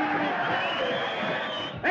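A crowd at a boxing match roars and yells continuously, a dense, loud wash of voices throughout the short stretch, with speech mixed in near the end.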